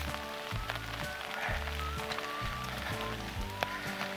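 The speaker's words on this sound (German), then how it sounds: "Ja, es regnet heute" Rain falls steadily on a hiking trail in the Hohe Mark near Haltern, a soft, even patter under rhythmic footsteps and rustling gear, fairly quiet and close, with no talk.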